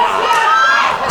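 A wrestling crowd in Boston roars and chants during a live match, a loud sustained mass of shouting voices filling the arena for the whole moment.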